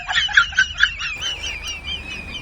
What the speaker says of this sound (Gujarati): ટીટોડી બોલે છે